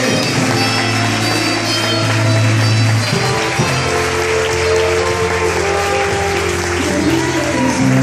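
Steady applause from a church congregation fills the space, with music or sustained tones running underneath throughout.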